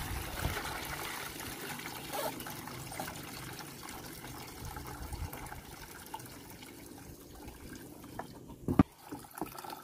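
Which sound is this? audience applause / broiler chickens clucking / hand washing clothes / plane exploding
hand washing clothes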